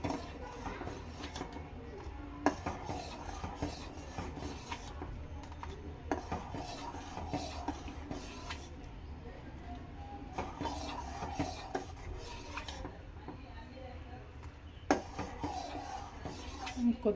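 A spoon scrapes and rubs around a pot of moong dal coconut payasam, a steady close stirring rasp with occasional clinks against the metal.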